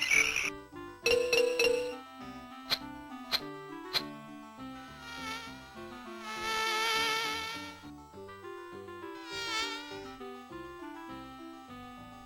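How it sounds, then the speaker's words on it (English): A bee's buzzing drifts in and out over soft, plinking musical tones in a children's story soundtrack, rising in a couple of swells and then fading. "Suddenly, Pooh heard a buzzing sound. Buzz, buzz, buzz."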